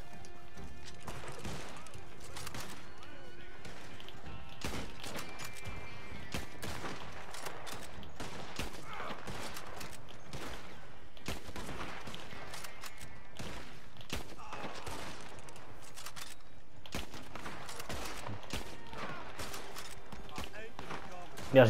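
Gunfire in a bounty hunter video game cracks out in repeated sharp bursts across the whole stretch, loud and close, with players talking over it.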